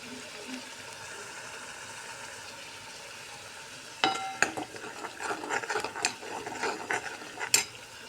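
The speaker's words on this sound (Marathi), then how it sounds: "आता वाटलेलं वाटण टाकू आता दोन तीन कडी पत्त्याचे पानं टाकते" Ground masala paste and curry leaves frying in hot oil, a steady low sizzle that turns into sharper crackling and utensil scrapes as ingredients go in, with no talking.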